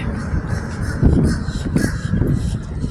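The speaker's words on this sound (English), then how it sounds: "I hear my crows calling me." Crows caw loudly and repeatedly nearby, harsh overlapping calls over a low outdoor rumble.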